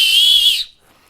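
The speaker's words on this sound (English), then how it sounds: "But a whistle, man, this travels a long way." Emergency whistle from a household disaster kit blown in one loud, shrill, sustained blast of about half a second that cuts off sharply, with nothing after it.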